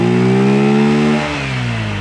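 A Honda Metro scooter engine on a home build revs hard up close, its buzzy tone sweeping down as the throttle eases off and it settles toward idle.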